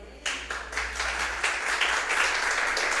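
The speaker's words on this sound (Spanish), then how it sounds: "¿No le da un aplauso al Señor?" A church congregation applauds after a sermon, a dense wash of clapping rising quickly and holding steady at moderate loudness.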